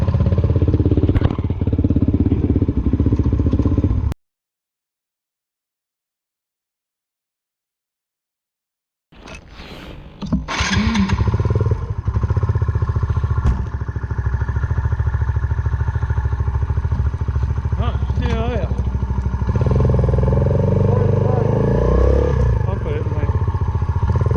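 Two Suzuki motorcycles, a Van Van 125 and a DRZ 400, ride up and down doing wheel spins, with engines droning and revving loudly throughout, cutting out briefly for a few seconds before resuming; people talk over them.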